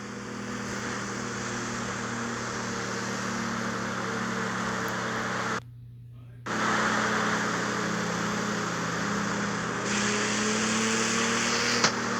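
A car engine in the CarX Street video game drones steadily and winds through its gears, with a sudden brief dropout midway before the revving returns, continuous and loud throughout.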